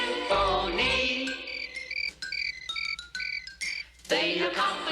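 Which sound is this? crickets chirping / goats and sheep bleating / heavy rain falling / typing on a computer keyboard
crickets chirping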